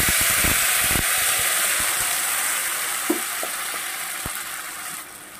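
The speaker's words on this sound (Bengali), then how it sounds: "এবার আমি পিষে রাখা মশলাটা দিয়ে দেব।" Ground paste of onion, garlic, ginger, tomato and green chilli hitting hot oil with fried whole spices in a fish roe curry, a loud close sizzle easing gradually, with a few stirring knocks.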